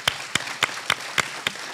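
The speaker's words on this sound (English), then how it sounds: "Can we have a round of applause for our attorney general?" A handful of slow, evenly spaced claps, roughly seven sharp hits over under two seconds, ring out in a hall as a round of applause for the attorney general at a New Jersey Attorney General's office event.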